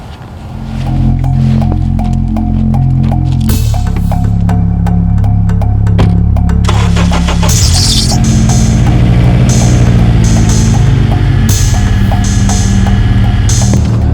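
A steady, loud engine drone with low rumbling harmonics runs throughout, with a change in pitch partway through as if revving or shifting.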